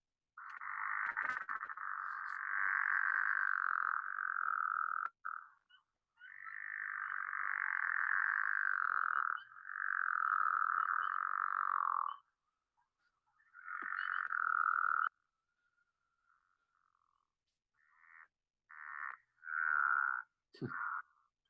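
Pickerel frogs in Maine give repeated low snoring croaks, each call a drawn-out rattling burst lasting a second or more, then shorter clipped calls near the end, heard alone and fairly close in quiet surroundings.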